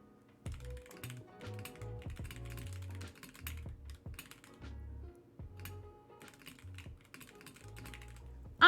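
Quick, busy typing on a custom-built mechanical keyboard with a rattly space bar, close and fairly quiet, with crisp key clacks and deeper thumps from the space bar, no talking.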